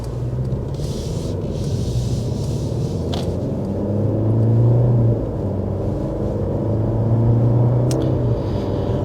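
A 2024 Mercedes E-Class sedan driving and accelerating, heard from inside as a low, steady road and engine rumble that swells slightly as speed builds, with no talk.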